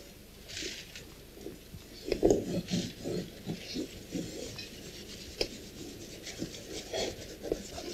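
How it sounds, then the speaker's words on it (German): A cloth rubs blackening paste into engraved pewter tableware, giving soft, irregular scrubbing and rasping strokes that continue steadily, close by and moderately quiet, with no talk. "muss sie gleichmäßig über die ganze Fläche verteilt und eingerieben werden"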